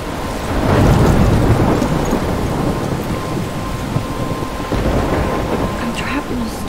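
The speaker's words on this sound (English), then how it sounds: "I'm trapped in a storm?" A thunderstorm from the game Life is Strange: heavy, steady rain hisses throughout while low thunder rolls and rumbles beneath, with a few sharper crackles near the end.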